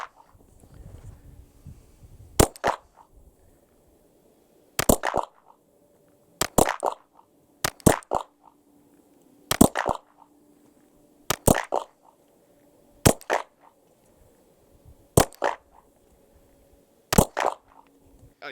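Glock 48 pistol shots fired outdoors, about ten sharp cracks spaced roughly one to two seconds apart with a few quick doubles, loud and close, each followed by a short echo.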